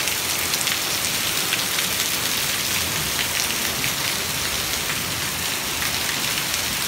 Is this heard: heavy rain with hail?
yes